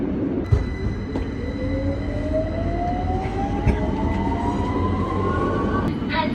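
A London Underground Victoria Line train runs with a loud, steady rumble, while a rising motor whine climbs in pitch over several seconds and brief clanks punctuate the ride.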